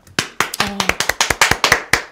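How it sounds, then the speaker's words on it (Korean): Clapping from a small audience at a Korean election campaign event, sharp separate claps in a quick irregular rhythm, loud and close, with no talk over it. "여러분 모두 박수 한번 치고 시작합시다"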